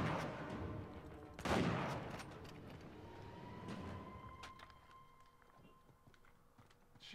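Burst of blind-fire gunfire in the video game Uncharted 4: a loud cluster of shots near the start, then scattered fainter shots and footsteps fading over the rest.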